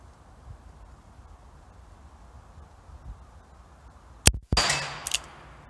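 Two sharp, loud reports from an Uberti .357 Magnum single action revolver, close together near the end after several seconds of quiet outdoor background.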